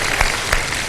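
A studio audience at a televised iftar program applauds briefly, a dense burst of many hands with a couple of sharper peaks, fairly close and alone.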